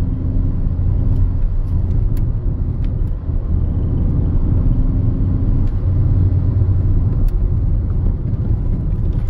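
2005 Skoda Octavia 1.9 TDI with gravel-spec suspension driven hard over a rough, bumpy road: a loud, constant low engine and road rumble from inside the cabin, with occasional small knocks and thumps and no talking.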